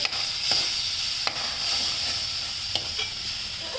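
Milk poured into moong dal simmering in a pan on low heat, a soft steady sizzle broken by a few sharp spoon taps and stirring scrapes.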